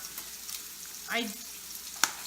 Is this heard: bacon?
yes